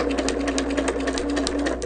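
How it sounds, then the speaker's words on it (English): A sewing machine stitches a seam on an inner section of fabric, running steadily in a fast, even rhythm of needle clicks over a low motor hum, close by with no talking. "we're only going to sew to the point on this inner section"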